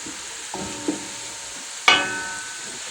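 Onions being stirred in a pan while they fry, a soft continuous sizzle broken by a few light scrapes and one sharp metallic clink, close and without talk.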